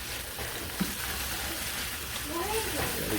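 Gentle steady sizzling of huevos rancheros ingredients and peppers frying in a pan, a soft hiss underneath with a voice speaking briefly over it.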